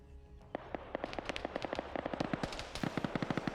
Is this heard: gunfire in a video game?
yes